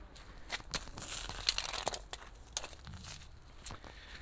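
A key is pulled from a BMW E30 left unused for five years, giving a series of close metallic jingles and clinks, with a bright ringing clatter in the middle.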